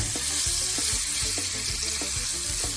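Half a lemon sizzling in a hot pan alongside blackened salmon, a continuous bright frying hiss with rhythmic low scraping as the pan contents are stirred and moved around, close up and steady.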